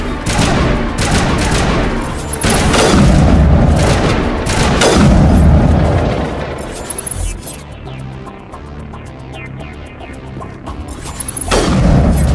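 Dense bursts of gunfire and booming impacts in the video game Mass Effect, loud and sustained for several seconds before easing into quieter scattered shots and a final burst.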